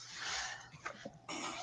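Dogs whimpering and whining, with soft breathy snorts and panting between the whines, fairly close and low in level, no talking.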